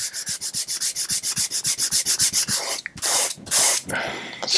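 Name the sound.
sanding wood of a DIY guitar kit neck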